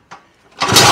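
A Lambretta Series 2 scooter's two-stroke engine is kicked over, a short pull sound and then the motor catching, jumping quickly to a loud, close running roar with no talking.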